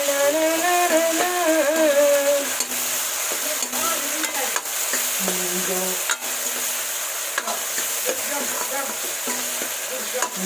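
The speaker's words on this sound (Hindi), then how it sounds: "और अभी डाल देंगे हम इसमें टमाटर, और टमाटरों को गालने के लिए डालेंगे ये नमक" Tomatoes and salt go into a frying chana dal and bottle gourd curry, a steady sizzle with scraping stirs of a spoon against the pan, while a song plays in the background.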